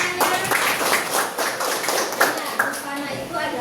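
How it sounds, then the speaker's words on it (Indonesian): Pupils in a classroom clapping together, a brisk burst of overlapping hand claps in uneven rhythm, close and lively, with children's voices mixed in. "Kasih tepuk tangannya."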